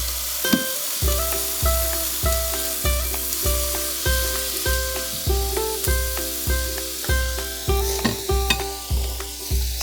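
Smash burger patties sizzle loudly and steadily on a Ninja Woodfire grill, with a constant frying hiss broken by regular soft scraping or tapping strokes and no voices.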